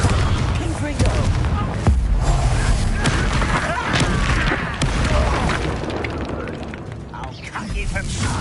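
Booming explosions from the Confringo spell in the Hogwarts Legacy video game go off amid dense, chaotic combat noise, with repeated loud blasts and crackling impacts packed closely together over several seconds.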